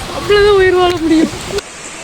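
Waterfall near Aintharuvi in Courtallam, a steady broadband rush of falling water beneath a brief spoken phrase, cut off abruptly at the end.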